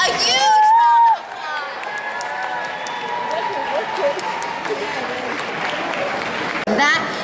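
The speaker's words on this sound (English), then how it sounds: "let's give all of our wonderful contestants a huge round of" Steady crowd applause with scattered cheers for contestants at a comic convention fills the space, sustained and fairly loud, starting after a brief loud burst and continuing to the end.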